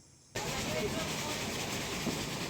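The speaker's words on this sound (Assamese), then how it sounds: "এয়া ট্ৰেইন আহি পালেহি" A train pulls into a small rural station, and a broad hissing rush begins suddenly and holds steady at a moderate distance.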